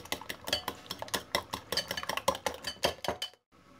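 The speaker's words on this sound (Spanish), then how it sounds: "y agregamos poco a poco las migas de pan. Vamos a mezclar bien para que se forme una masa" Bread crumbs being mixed by hand into beaten egg, garlic and parsley in a bowl, a close, quiet series of rhythmic clinking and scraping strokes against the bowl, ending in sudden silence.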